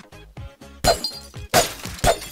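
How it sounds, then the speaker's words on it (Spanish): Glass windows shattering in Garry's Mod, several loud crashing breaks with bright tinkling debris, spaced across the moment, following earlier softer game sounds without speech. "Puedes romper los cristales también"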